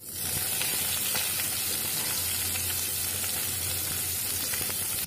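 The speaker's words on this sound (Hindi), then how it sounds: "देखिए मैंने प्याज और लहसुन दोनों डाल चुके हैं, उसको मैं अच्छे से फ्राई कर लूँगी पहले" Chopped onion and garlic frying in a pan for a village-style spiny gourd curry, a steady, dense sizzle that holds loud and close throughout with no talking.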